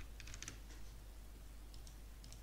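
A preset name being typed on a computer keyboard while exporting a 3D model from Blender to Unreal Engine 5: faint, scattered keystroke clicks in short clusters over a steady low hum.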